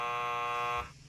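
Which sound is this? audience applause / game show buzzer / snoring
game show buzzer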